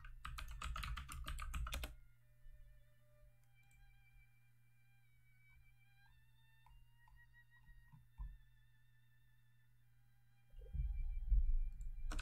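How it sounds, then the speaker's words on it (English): A cat walks across a computer keyboard, setting off a dense burst of rapid key clicks for about two seconds, then quiet with faint tones, before another short flurry of keystrokes at the end. "Scarlet Kitty, please don't type on the keyboard"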